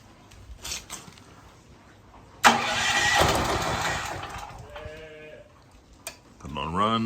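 A propane-fuelled generator on choke starts with a sudden roar and keeps running as a loud, steady engine drone that slowly fades. There are faint sounds beforehand, and people talk toward the end.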